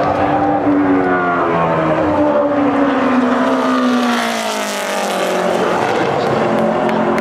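A Camping World Truck Series truck roars through a qualifying lap at Phoenix, running hard off turn 4 against the wall. The engine note is loud and sustained, with its pitch sweeping down and then climbing again as the truck passes.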